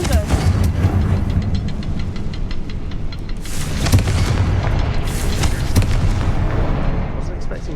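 A Confringo fire spell explodes in the video game Hogwarts Legacy, with loud booming blasts and crackling bursts over game music, while a player talks through much of it.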